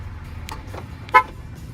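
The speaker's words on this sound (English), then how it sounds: "I'm going to go ahead and shut off the remote start by hitting lock 3 times." A car horn gives a single short toot as a remote-started car is locked and shut off, a brief chirp over quiet background noise.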